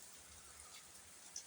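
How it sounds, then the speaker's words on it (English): Rain falling in the background, a soft, steady hiss of drops that stays faint and continuous throughout, with one slightly sharper drop near the end. "hear the rain in the background."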